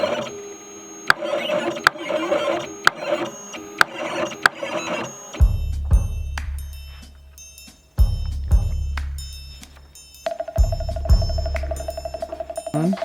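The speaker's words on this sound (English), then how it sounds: "Hopefully the cutter cuts it perfectly fine." A cutting plotter blade working on material for homemade merchandise, with mechanical ticks and clicks, short motor whirs and repeated buzzing carriage movements in an irregular rhythm, close and fairly loud.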